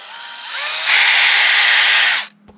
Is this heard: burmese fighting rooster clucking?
no